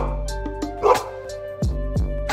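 Dog named Kraken barking and yipping in several short, close bursts with a whimpering tone, separated by brief pauses.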